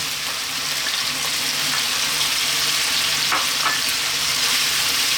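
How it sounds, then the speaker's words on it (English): Steady, loud sizzling of onions frying in a hot pan over above-medium heat, a continuous crackling hiss with occasional stirring scrapes and no talking. "At this point we're going to drop in that onion."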